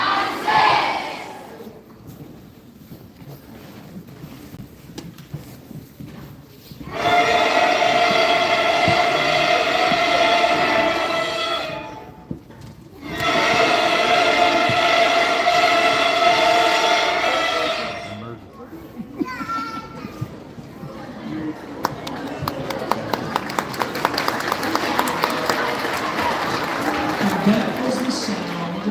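Beginner school band students play a song on their instrument mouthpieces only, giving two long stretches of loud, buzzy, honking group tones with a brief gap between them, followed by children's cheering and clapping.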